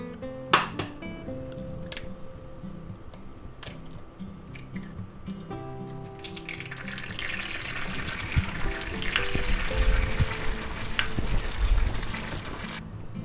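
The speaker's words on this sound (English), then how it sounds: "Alright, now let's crack some eggs." Eggs fry in peanut oil in a cast iron skillet. A few sharp taps come first, then sizzling and bubbling build steadily and grow loud and close, over a faint tonal background.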